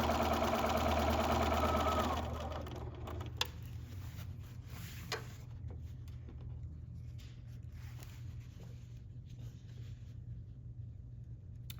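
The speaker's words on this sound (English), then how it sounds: "So this is then being chain stitched, and you don't have to stop and cut and start." Sewing machine chain stitching strips of fabric one after another for a book bag, running in a fast steady whir that starts loud then settles into a quieter continuous mechanical hum with light ticking.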